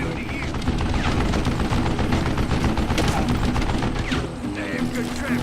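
A mounted gun fires in Call of Juarez: Gunslinger as a continuous rapid rattle of loud shots, dense and close throughout, with a voice talking over the barrage.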